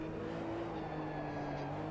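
A 1974 Porsche RSR 3.0 racing in the Automobilista 2 game, its engine a steady loud drone with a constant pitch and no clear gear changes, and no voices over it.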